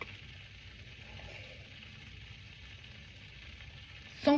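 Melted butter sizzling softly in a pan, a steady low hiss and crackle lasting throughout before a brief louder clatter at the very end.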